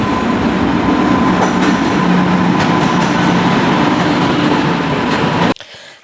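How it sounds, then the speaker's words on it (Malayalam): The Shatabdi Express passenger train arrives at a station with a loud, steady rolling rumble, rattling wagons and faint wheel squeal, close by and continuous before cutting off abruptly near the end. "അങ്ങനെ ഞങ്ങളുടെ ട്രെയിൻ വന്നു ഇതാണ് ശതാബ്ദി എക്സ്പ്രസ്"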